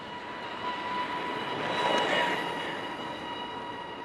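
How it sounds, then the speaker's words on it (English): A monorail tram glides past with a steady rumble and faint high metallic whine, swelling slightly in the middle then easing off. "stopped in front of a monorail with a tram waiting"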